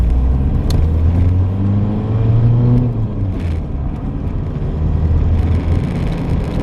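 A diesel Citroen CX runs steadily while driving, its engine giving a coarse, agricultural rumble with low droning harmonics that rise and fall slightly. Road noise sits close and constant inside the car.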